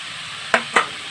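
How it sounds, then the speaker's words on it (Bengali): Chicken curry with fried potatoes stirred in a pan: two short scraping strokes of a spoon stand out over a steady low sizzle, with no talking. "এরপর এটা নাড়াচাড়া করব, কারণ আলুটা এখানে হাফ বয়েল হয়েছিল"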